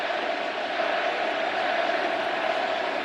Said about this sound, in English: The crowd tells you Eddie Rosario, who's hitting .426 this postseason.